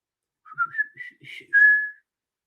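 Someone whistles a short, clear tune close up, a string of quick rising notes that ends in one long held note, with no other sound around it.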